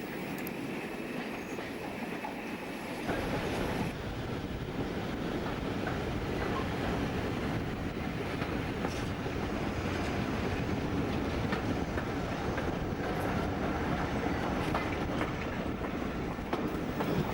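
On the Great Central Railway near Loughborough Central, a heritage train rolls along steadily, its wheels and carriages giving a continuous rumbling clatter heard from on board, growing louder after a few seconds.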